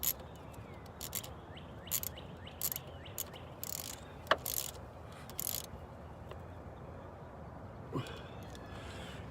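Intermittent ratcheting clicks and metallic scrapes come from screwing a fuel pressure regulator onto a Jeep 4.0L engine, up close and quiet in short bursts separated by pauses.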